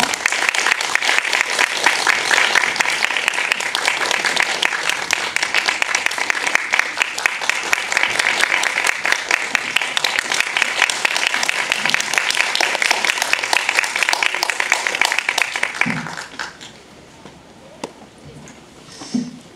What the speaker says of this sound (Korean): 두 분을 큰 박수로 맞이해 주시기 바랍니다.